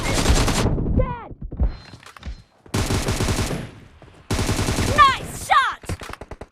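Bursts of automatic gunfire in BGMI, an 8v8 team deathmatch on the Santorini map, loud rapid volleys in several separate runs with short gaps, mixed with game effects and voice callouts.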